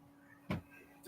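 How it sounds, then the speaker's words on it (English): A door closes indoors with a soft thud at mid-distance, followed by a second lighter knock or latch a moment later against a quiet room hum. "Later, can you close my door?"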